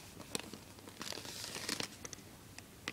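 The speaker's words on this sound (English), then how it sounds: "let's cut the plastic" Plastic wrapping on an iPod touch 3G 8GB box crinkling and tearing as it is cut open, a few sharp crackles and rips spread over a few seconds, fairly quiet and close.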